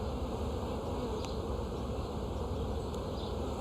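Honey bees buzz in a dense, continuous hum during a beehive inspection as they are shaken onto the top of the hive, steady and close with no talking.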